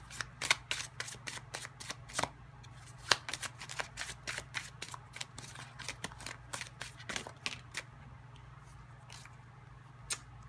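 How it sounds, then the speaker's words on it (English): Tarot cards are shuffled and drawn, giving a rapid series of crisp riffling snaps and soft flicks over a low steady hum, close but quiet, with no talk. "let's grab one more card"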